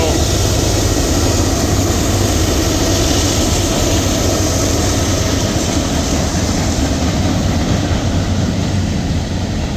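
A long BNSF freight train with distributed power locomotives working hard rumbles past nearby, loud and continuous, its heavy engine roar and rolling wagon noise steady throughout.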